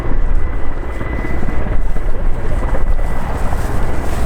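Mi-24 Hind attack helicopter flying past at an airshow, a loud, steady rotor thump and turbine roar with dense low rumble and some wind buffeting throughout.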